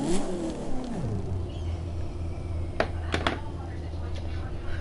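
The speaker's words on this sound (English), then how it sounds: "That is like one of the worst sounding vehicles you will ever hear in your life" A Chevy Silverado truck engine in The Crew 2 revs up and drops away, a rough droning engine tone with a sweeping pitch change early on, followed by a few sharp clattering knocks.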